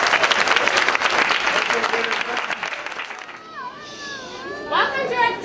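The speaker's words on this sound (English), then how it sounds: "Let's give our second graders a huge round of applause." Audience applause for second graders at a school concert, loud clapping that gives way to children's chatter and voices as the clapping dies down.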